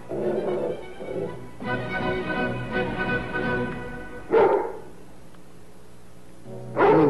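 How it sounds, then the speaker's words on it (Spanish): A dog barks indoors in a few loud, close bursts separated by quieter stretches, with a low steady hum running beneath. "¿Cómo entró un perro aquí?"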